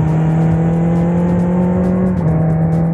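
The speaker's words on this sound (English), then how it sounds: "I'm astonished by how much exhaust note can be heard in very windy videos" A motorcycle exhaust note captured on a windy ride with an Insta360 ONE RS camera: a steady, loud engine drone with a brief dip in pitch about two-thirds through, mixed with constant wind rush.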